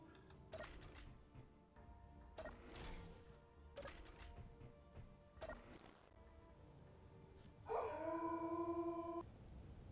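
Puppies bark and howl in short bursts, several yips and cries spread across the stretch with a longer high howl near the end, faint and somewhat distant.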